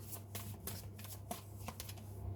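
Tarot cards being shuffled by hand, a rapid papery riffle of flicks and slaps heard close up over a faint steady hum.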